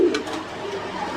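A single low, soft coo rises from caged pigeons on a pigeon farm in Tangail, heard close and brief over faint background room noise.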